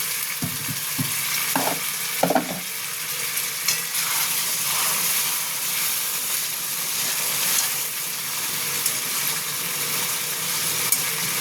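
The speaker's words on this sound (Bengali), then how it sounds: "আমি একটু গরম জল দিচ্ছি।" Hot water poured into a pan of simmering pabda fish curry, giving a steady loud sizzle and frying hiss with a few brief stirring knocks early on, no talking.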